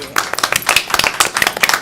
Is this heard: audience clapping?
yes